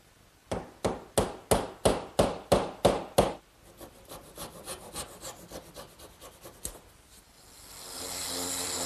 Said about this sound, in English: And I'll drive it in, making sure not to hit it so hard that it might pop through the other side.